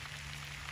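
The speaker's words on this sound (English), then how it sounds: "It's raining a little harder right now." Steady, soft rain falls on a vegetable and herb garden, a continuous faint hiss of drops with no voices.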